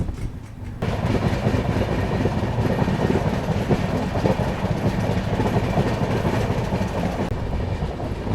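A sleeper-class train from Indore to Pune rolls steadily along single-line track, a loud continuous rumble with rhythmic clatter of wheels, heard close from on board.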